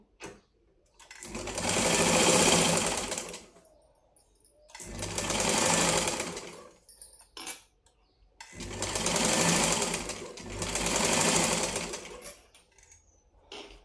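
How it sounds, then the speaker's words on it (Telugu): Sewing machine stitching the neckline of a lined blouse in three long bursts of rapid, even clatter, each a few seconds long, separated by short quiet pauses. "ఇప్పుడైతే నెక్ అయితే కుట్టుకుంటున్నాను నేను"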